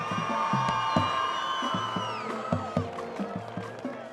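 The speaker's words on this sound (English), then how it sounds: "A round of applause for Miss Elizabeth Scotchlack." A crowd cheers and claps at a high school football game between Albert Gallatin and Franklin Regional, a steady wash of shouts and whoops with rhythmic low thumps running through all four seconds.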